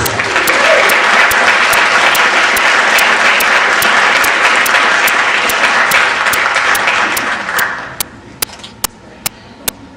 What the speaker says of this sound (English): please give us all a round of applause for Elizabeth Kissling.